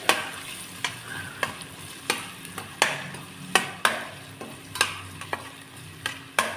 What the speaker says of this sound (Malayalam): ആവശ്യത്തിനുള്ള ഉപ്പ് ഇട്ട് കൊടുക്കുകയാണ്. നല്ലപോലെ വഴറ്റുക.